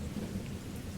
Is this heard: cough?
no